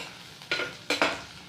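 Garlic and chili in mustard oil sizzle faintly in a pan, with two quick scraping stirs of a spoon close by during a brief moment.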